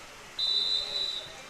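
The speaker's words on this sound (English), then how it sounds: "And there we have a whistle blow" A referee's whistle sounds once at a junior varsity football game, a single sustained shrill blast lasting under a second over faint crowd background.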